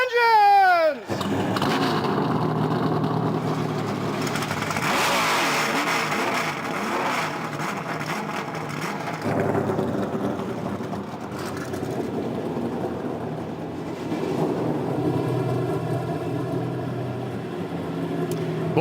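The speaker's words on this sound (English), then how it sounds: "I love that sound when they fire the engines" NASCAR Xfinity Series race cars fire up together at the start of the B&L Transport 170 at Mid-Ohio in Lexington, Ohio, a loud massed engine roar with revving surges that builds and holds, with crowd and announcer voices underneath.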